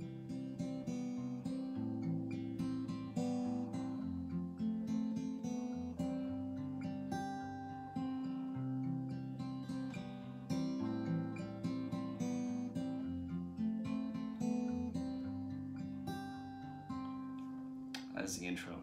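Electric or acoustic guitar plays the picked intro of a country song, a steady melodic line over sustained chords, close and clear with no talking, ending on a final strummed accent.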